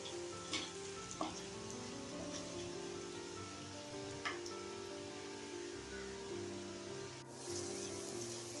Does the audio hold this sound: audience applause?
no